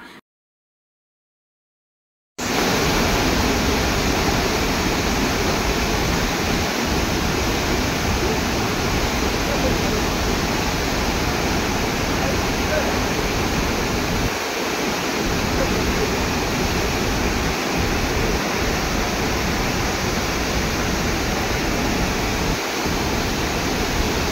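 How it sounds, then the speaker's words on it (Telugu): Water thundering through an opened gate of Gogarbham dam after the reservoir filled, a steady, dense broadband roar that continues unbroken after a brief silent start. "గోగర్భం డ్యాం పూర్తిగా నిండిపోవడంతో ఒక గేటును తెరిచి నీటిని దిగువకు విడుదల చేశారు"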